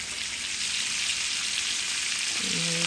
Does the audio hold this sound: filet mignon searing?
yes